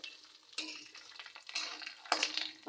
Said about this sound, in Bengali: চরবর করছে, একটা আওয়াজ হচ্ছে চরবর চরবর করে